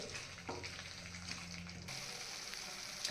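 Kachri chutney with curd cooks in oil in a pan over a medium flame, giving a steady, soft frying sizzle with a brief stir-like scrape, close and alone without talk.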